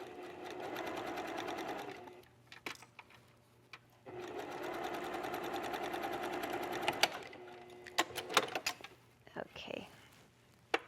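Sewing machine stitching a princess seam on a little black dress, running in two long steady bursts with a pause between, followed by clicks and handling noises.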